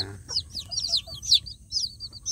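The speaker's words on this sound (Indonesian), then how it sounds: "mengecek anak ayam kampung yang baru menetas agar mau makan pur" Newly hatched native village chicks peep in a run of short, high chirps, with a few lower clucks among them, close by and fairly quiet.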